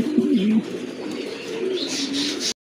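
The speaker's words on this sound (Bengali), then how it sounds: "এক জোড়া কবুতর মাশাআল্লাহ দেখার মতো কিন্তু এক জোড়া কবুতর, কালারফুল কবুতর।" Pigeons coo in low, rolling, repeated calls up close, a steady throaty murmur through most of the stretch, cut off briefly near the end; no talk.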